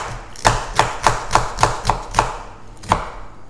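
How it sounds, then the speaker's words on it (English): A knife dicing an onion on a cutting board: eight sharp, close chops, seven in a quick even rhythm and one final chop after a short pause. "I will dice my onion and pop it in a pan"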